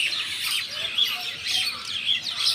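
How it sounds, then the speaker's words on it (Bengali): A flock of mynas gathered on a rooftop courtyard chatter and chirp continuously, a busy overlapping mix of calls heard close. "কত পাখি এসেছে শালিক।"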